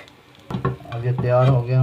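Egg-coated bread sizzles in a frying pan, a sharp clatter as it is flipped giving way to steady, loud frying with some scraping and stirring.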